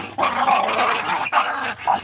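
A mother dog and her puppies growl and snarl while playing, close and loud in a continuous rough rumble broken by brief pauses.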